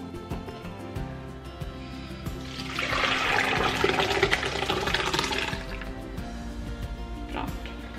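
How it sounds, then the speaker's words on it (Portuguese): Whey pours through a cloth to drain fresh homemade cheese, a rushing trickle of liquid that swells for a few seconds and then settles into a gentle drip against a faint background hum. "onde eu vou derramar para aqui aquele soro com o nosso queijinho"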